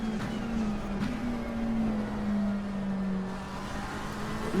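Race car engine in the Assetto Corsa Competizione racing game, a steady loud droning hum held at near-constant pitch throughout, alone with no talking.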